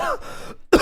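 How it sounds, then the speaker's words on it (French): A single short cough or throat clear from a man during a casual livestream chat, close and brief, with a quick harsh burst at the end. "faut prendre des médicaments quand tu tousses comme ça"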